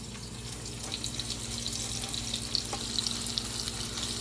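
Shrimp fry in a little oil over medium-high heat for a devilled shrimp dish, a close, even sizzle speckled with small crackles and pops, no voices.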